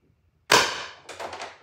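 A single sharp crack from a CO2 air gun, loud and close, followed by a brief metallic rattle and ring as the sound decays.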